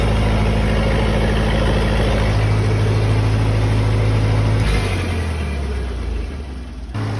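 A Lincoln SA-200 welder's engine idling after a cold start, a loud steady low rumbling drone close by that drops in pitch and eases off toward the end.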